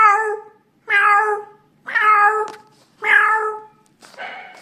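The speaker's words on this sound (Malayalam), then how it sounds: "ഇനിയും വലുതായി അതൊരു പ്രായപൂർത്തിയായ പൂച്ചയാകുമ്പോൾ എങ്ങനെ കരയുമെന്ന് നോക്കാം" An adult cat meows four times in a row, each call a clear, close, drawn-out mew with a short pause between, the last one softer and rougher.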